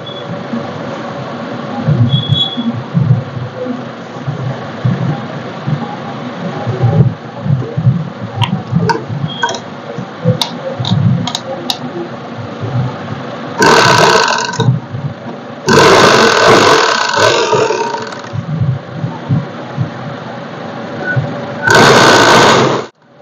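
A sewing machine stitches a zipper onto a pyjama, running in several bursts of rapid, close stitching separated by short pauses, with a longer whirring run near the end.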